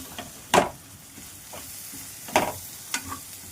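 Ginger paste frying in a pan for a Telugu-style fish curry, stirred now and then: a steady soft sizzle with a few louder scraping stirs, close up and with no talk.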